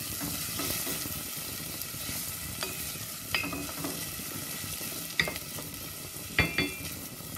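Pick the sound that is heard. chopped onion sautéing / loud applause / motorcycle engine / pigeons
chopped onion sautéing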